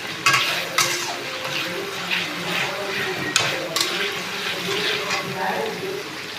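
Ginger and garlic are stirred in a pan over gentle heat, a low sizzle broken by sharp scraping clacks of the utensil against the metal at irregular intervals, with quiet talk underneath.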